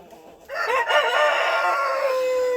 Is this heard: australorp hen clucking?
yes